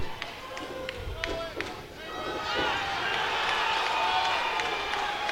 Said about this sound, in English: Reaction from the crowd after that one.